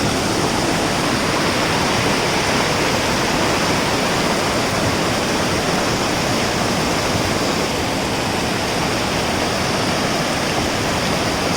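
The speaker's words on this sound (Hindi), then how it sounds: "पानी बढ़ रहा है" Rising floodwater rushes after a cloudburst at Sera village in Chamoli's Nandanagar area, a loud, dense, unbroken roar of torrential water with no pauses.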